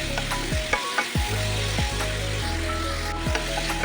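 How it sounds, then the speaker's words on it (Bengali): Chopped mushrooms and onion fry in a little oil in a pan, a steady close sizzle broken by repeated scraping stirs of a spatula, no talk. "মাশরুম আর পেঁয়াজটা ভাজা হলে দিয়ে দেবো ক্যাপসিকাম কুচি"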